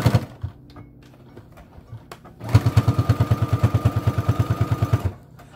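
A sewing machine stitches flannel for a microwavable bowl holder, a quick rhythmic mechanical chatter of needle strokes running steadily for a couple of seconds after some quieter handling noises.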